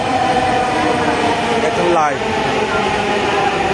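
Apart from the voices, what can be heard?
Dhaka metro trains passing each other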